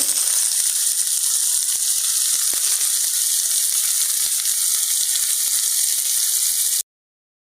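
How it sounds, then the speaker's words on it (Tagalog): Onion, garlic, ginger and tomato sauté in a hot pan with a splash of fish sauce, giving a steady, dense sizzle that holds at an even level throughout, with no voices over it. "ginigisa ko na po ang ating sibuyas, bawang, luya at kamatis"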